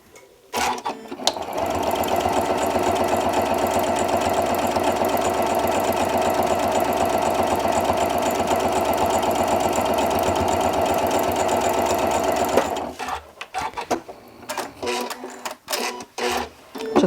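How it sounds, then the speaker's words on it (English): A sewing machine stitches fabric for a quilt block in one steady, loud, fast-running whir lasting about twelve seconds, then stops, leaving a few quieter handling clicks. "Just want to make sure I stitch along far enough that I'm actually off, off the block."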